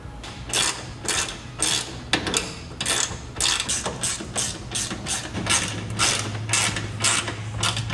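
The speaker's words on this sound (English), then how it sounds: "After you tighten down these bottom button heads, go ahead and repeat the process on the other side." Button head bolts being tightened on a Jeep Gladiator frame, a ratchet clicking in steady rapid bursts close by throughout, with no talking.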